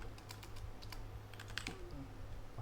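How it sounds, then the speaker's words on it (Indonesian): A username is typed on a computer keyboard, a quick, faint run of light key clicks in an irregular rhythm over a low background hum. "masukkan username, contohnya bisa kita ketik ya di sini"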